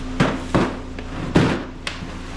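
Wooden drawer unit freshly unboxed, its drawers sliding and knocking as they are pulled out: four sharp wooden clunks at uneven intervals over a steady low hum, close and fairly loud, with no voices.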